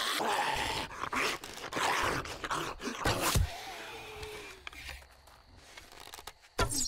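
A feral dog in the zombie survival game 7 Days To Die growls low and rough amid thuds, rustling and sharp impact sounds, with gameplay noise throughout.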